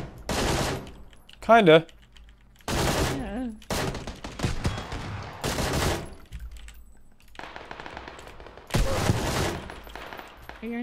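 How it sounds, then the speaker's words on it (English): Loud bursts of automatic gunfire in PUBG crack out in several separate volleys, with people talking briefly in the quiet gaps between them. "There was a floating gun, it was shooting."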